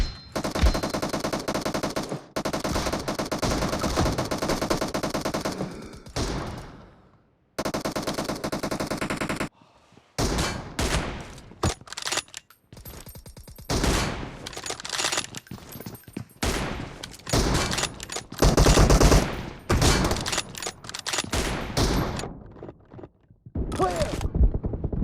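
Rapid automatic gunfire and single shots from a shooting video game with a mini shotgun, loud bursts cut by short silences and clattering effects across the clip, with occasional in-game voice callouts.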